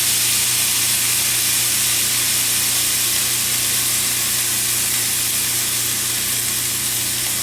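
Thinly sliced French toast sizzles on a hot griddle, a loud, steady broadband hiss of bubbling and frying that continues without break.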